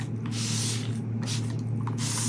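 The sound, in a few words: spraying alcohol from a spray bottle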